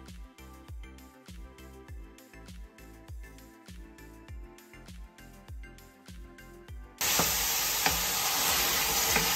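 Meat dropped into a pan of nearly browned onions for Kabuli pulao, stirred with rhythmic scraping strokes, then breaking into a loud, steady sizzle near the end.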